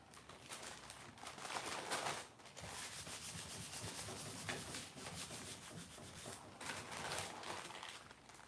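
Paper is rubbed over Play-Doh on a Gelli printing plate as frottage: close, faint, continuous scratchy rubbing strokes in an uneven rhythm, with a short pause near the two-second mark.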